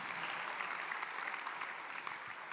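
Audience in a church applauding, a brief, steady burst of dense clapping heard at a distance and fairly faint, with no speech over it.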